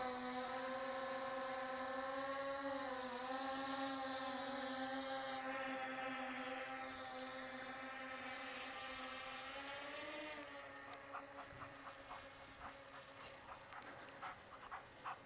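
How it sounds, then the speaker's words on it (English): A Veeniix V11 Air drone buzzes and whines outdoors, a steady tonal motor drone that shifts pitch as it manoeuvres and then fades as it climbs away, leaving fainter ticking sounds. Nobody talks. "To prove to you that I'm using a drone"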